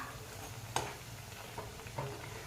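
Dal vada fritters frying in hot oil in a kadhai give a steady, low bubbling sizzle, with a few soft clinks or stirring taps standing out over the continuous hiss.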